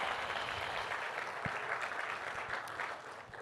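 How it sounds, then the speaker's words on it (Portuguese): A church congregation applauds during a service, steady dense clapping throughout, fairly distant and soft, thinning slightly toward the end. "pode aplaudir o Senhor?"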